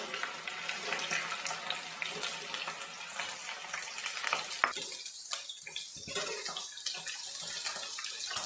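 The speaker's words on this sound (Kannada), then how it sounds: "ಈಗ ನಾನು ಸ್ವಲ್ಪ ಎಣ್ಣೆ ಹಾಕ್ಕೊತಾ ಇದ್ದೀನಿ ಬೆಂಡೆಕಾಯಿ ಫ್ರೈ ಮಾಡೋದಕ್ಕೆ" Okra frying in hot oil in a pan, a continuous sizzle with scattered crackles and faint stirring scrapes, close and fairly quiet.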